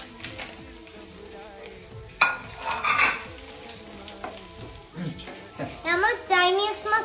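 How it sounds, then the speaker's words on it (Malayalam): Cabbage is stir-fried into Chinese noodles in a pan, with sizzling, scraping stirring strokes and clinks of a utensil against the pan, plus occasional voices in the background. "ഇനി വീണ്ടും മിക്സ് ചെയ്യുക, നന്നായിട്ട് ഇളക്കണേ."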